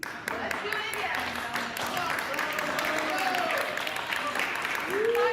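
Applause from an audience at a blade competition final, a scattered clapping texture that runs steadily under voices and rises slightly near the end.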